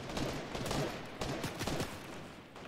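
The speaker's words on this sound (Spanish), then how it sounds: "¿O están disparando?" Video game gunfire rattles in quick, overlapping bursts, like automatic weapons fire trading shots at moderate distance, dense and continuous through the short stretch.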